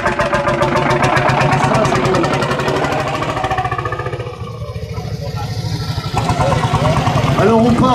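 A vintage Berliet tractor engine idles with a loud, rapid, regular chugging pulse that dips slightly midway before returning strong, with voices talking over it.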